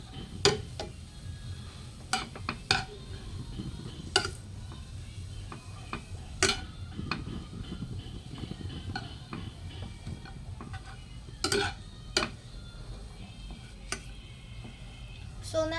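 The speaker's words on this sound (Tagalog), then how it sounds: "Gigisa lang po natin siya hanggang maluto po yung bawang at saka sibuyas." Garlic and onion sautéing in a pan on low heat, a faint steady sizzle under repeated sharp clicks and clanks of a utensil stirring against the pan at irregular intervals.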